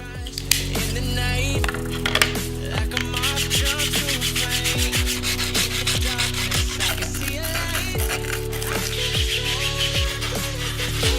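Grit sandpaper rubbed firmly over a 3D-printed part in steady back-and-forth strokes, close and loud, each stroke a rasping scrape in a regular rhythm with no talking.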